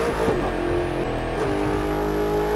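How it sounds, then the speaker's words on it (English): Race car engine from the video game The Crew 2, a loud steady roar with rising and falling revs, continuous and close throughout. "the car's making the noise already"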